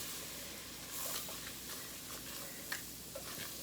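Wire whisk stirring all-purpose flour into melted butter in a pan, a steady soft scraping and faint sizzle with a few light clicks of metal against the pan, close and alone.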